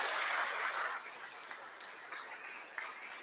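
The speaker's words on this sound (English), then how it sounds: "So let's give her a round of applause." A pitch-night audience gives a short burst of applause, a hiss of many hands at moderate distance that is strongest at first, then quickly thins into scattered claps.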